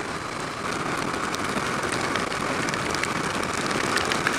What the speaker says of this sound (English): the rain's starting to pick up now